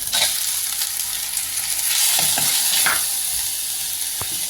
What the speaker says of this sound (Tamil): இப்போ நல்லா தக்காளியை வணக்கி விட்டுக்கலாம்